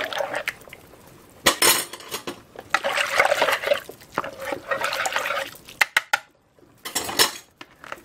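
A spoon stirs and clinks in a pot while broth is poured into red beetroot soup with potatoes, giving irregular metallic scrapes, taps and liquid splashes up close, with no talk.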